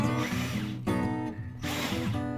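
A screwdriver works two screws out of the casing of an HP Officejet 6500A printer, giving close, harsh whirring bursts split by a short pause, with no talking.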